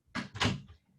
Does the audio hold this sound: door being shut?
yes